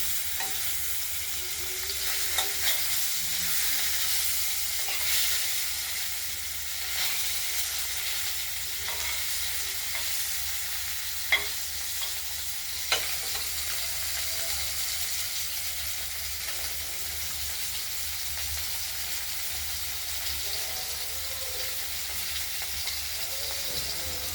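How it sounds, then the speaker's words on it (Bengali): Rohu fish pieces frying in oil in a pan for a curry, giving a steady, continuous sizzle close by, with a couple of sharp pops partway through and no talking. "মাছটা ভাজা হচ্ছে"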